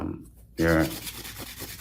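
A short burst of rasping, rubbing strokes, like a nail file worked quickly across a nail, close to the microphone, then quieter scratchy movement.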